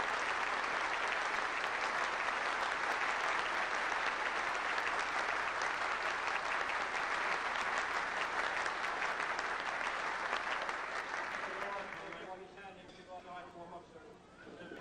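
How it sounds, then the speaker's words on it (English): Sustained applause from a crowd at a police academy class ceremony, steady and loud for several seconds before thinning out into scattered claps at the end. "Let's give them a round of applause."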